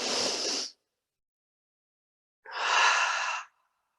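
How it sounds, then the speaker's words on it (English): Two deep breaths during a chair yoga stretch class, a long exhale followed after a pause by another full breath, close and fairly loud, with no talking. "Full breath in and out."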